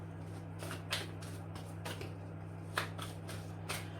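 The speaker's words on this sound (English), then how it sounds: "And I'm sorry my shuffling's not up to par" Tarot cards being shuffled by hand, soft riffling bursts repeating about once a second, close but quiet over a steady low electrical hum.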